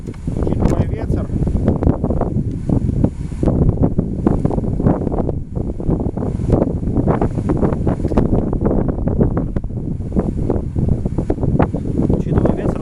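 Strong wind buffets the microphone at an open-field air rifle shooting range, a loud, continuous roar with gusty surges throughout.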